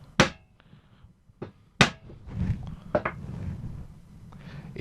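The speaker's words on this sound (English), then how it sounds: "Chiseling that cut I made earlier." Hammer blows on a chisel cutting wood for a fishing storage box, about five sharp, separate strikes at uneven intervals, close and fairly loud, with quieter scraping and shuffling between them.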